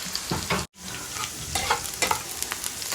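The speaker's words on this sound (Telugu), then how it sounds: "ఆనియన్ సగం పడ వేగాలి ఇప్పుడు" Onions fry in a pan while being stirred, home cooking for a meal. Steady close sizzling with scraping stir strokes runs throughout, broken by a very brief gap near the start.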